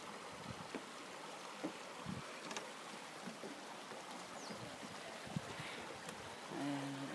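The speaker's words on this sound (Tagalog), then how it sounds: "Daloy ng tubig." Water flows continuously at a hot spring onsen in Noboribetsu, Hokkaido, a soft, steady wash with scattered faint splashes and clicks, fairly quiet and without speech.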